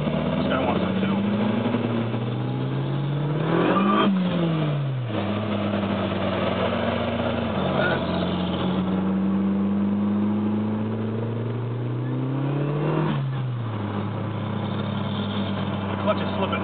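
A Mercury Tracer with a swapped motor and a slightly slipping clutch runs steadily at idle, its engine rising in revs a few times, with people talking nearby throughout.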